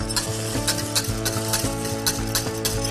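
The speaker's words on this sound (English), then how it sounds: "Stir constantly until the mixture begins to thicken." A cornmeal mixture with bay leaves is stirred constantly in a pot, producing a close rhythmic scraping and bubbling sizzle that repeats steadily, with no voices.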